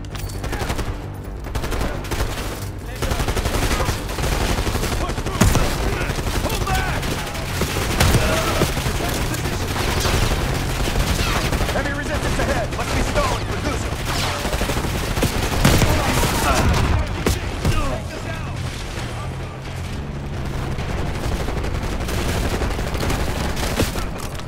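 Dragon's breath shotgun rounds in Call of Duty Black Ops 6 fire as loud, dense repeated blasts amid a constant barrage of gunfire and battle noise throughout.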